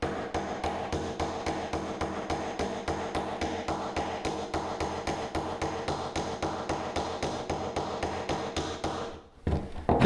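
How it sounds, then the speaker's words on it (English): A chisel takes old thinset off a floor down to the backer board with a fast, steady run of sharp, even tapping strikes, close and loud, that ends abruptly near the finish. "Chisel usually is a little slow, but basically what you would do is just get it in there and try to just shave that off."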